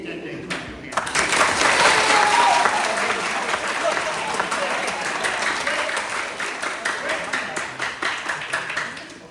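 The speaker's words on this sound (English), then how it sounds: "Okay, 7th grade, you're clapping way too much." A school assembly audience of seventh graders and teachers breaks into loud sustained applause that rises quickly, holds, and then tapers into scattered claps as the noise thins out.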